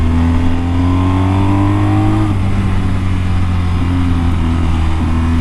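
A motorbike fitted with Trailmax Mission tyres revs hard while being ridden, its engine note loud and close, climbing then dropping sharply before pulling again, with no speech.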